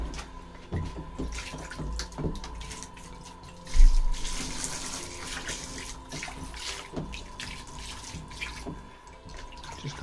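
Steady running tap water splashes into a sink as a cyanotype print is washed. The flow continues throughout, close by, with one louder gush and splash partway through.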